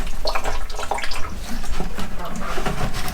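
Water drains and trickles from fermented chicken feed through a fine mesh sieve, a close, splashy, continuous pour with uneven gurgles, while a person talks over it.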